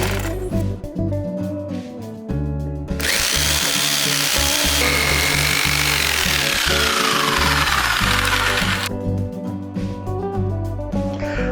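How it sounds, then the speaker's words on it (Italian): Jigsaw cutting wood at a 36-degree angle for a small DIY canopy, a loud continuous buzzing saw running for several seconds between quieter start and stop moments, no talking. "è possibile realizzare un taglio a 36 gradi utilizzando un semplice seghetto alternativo"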